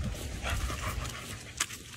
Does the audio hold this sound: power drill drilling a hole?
no